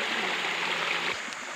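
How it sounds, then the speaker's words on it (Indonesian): A jungle river in the Kalimantan forest rushes steadily during a crossing, a close, full broadband flow with no pauses. "Kita menyeberangi sungai ya, Bro. Nah, ini sungainya"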